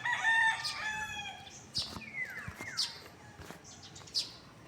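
A rooster crows several times outdoors amid other scattered bird chirps and calls, with steady background ambience.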